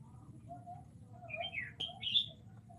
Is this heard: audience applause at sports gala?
no